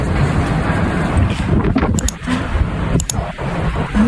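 Strong wind during a snowstorm in Nova Scotia buffets the microphone with a loud, rumbling roar, rising and falling in gusts with brief dips throughout.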